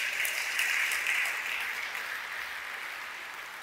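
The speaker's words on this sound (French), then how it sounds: "Acclamons notre roi qui est avec nous." A church congregation applauding together, a dense, steady wash of clapping that fills the room and slowly fades over a few seconds.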